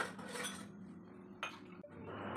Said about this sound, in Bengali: এগুলো র্যাকের মধ্যে রেখে দিই।